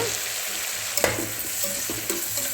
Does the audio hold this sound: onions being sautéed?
yes